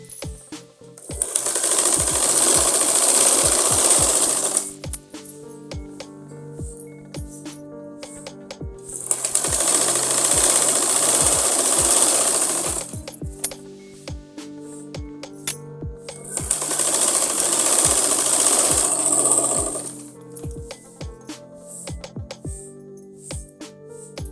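A sewing machine stitches along buckram while making a pahuncha design, running in three long loud bursts of rapid needle clatter, with sharp clicks and handling taps in the pauses between them.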